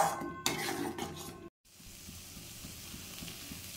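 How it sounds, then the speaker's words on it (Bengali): Remaining chhana is stirred into palm kalakand in a pan, with a steady scraping, shuffling rhythm and a brief pause partway through. Faint sizzling runs underneath, with no talk. "বাকি যে ছানাটা আছে সেই ছানাটা দিয়ে এবারে মিশিয়ে নেব"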